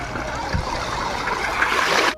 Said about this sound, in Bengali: রীতিমতো এখানটায় স্রোত ভাই, কি পরিমাণে লেভেলের স্রোত দেখো